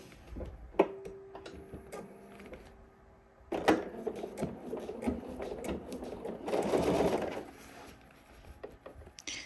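A sewing machine stitches a shoulder seam on a garment. Short bursts of mechanical stitching come close up, with a longer steady run near the end and some light handling clicks between them.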